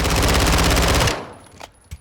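A B&T APC9 Pro submachine gun fires one rapid, loud, close full-auto burst of about a second in Call of Duty Modern Warfare II, then cuts off into a couple of faint clicks and brief quiet.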